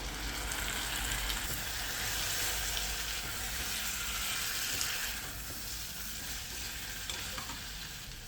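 Pan sauce for mallard duck reducing with cherry vinegar, cognac and white wine, a steady, close, hissing sizzle with fine crackles that eases slightly partway through, with no talking.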